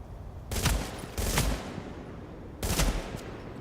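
Gunfire in The Division video game, three separate bursts of rapid automatic shots, loud and close, with low background ambience between them and no voices.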